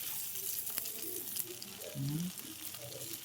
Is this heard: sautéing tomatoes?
yes